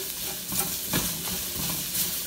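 Glass noodles, vegetables and beef stir-fried on very high heat, a loud continuous sizzle with repeated scraping stir strokes, close and alone with no talking.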